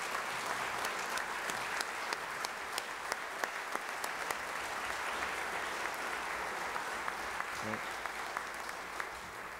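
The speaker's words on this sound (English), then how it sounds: "If you all could give them a round of applause" Applause from an audience in a state legislative chamber during a farewell address, a dense, steady wash of clapping lasting the whole stretch at moderate distance, with a few sharper individual claps popping out.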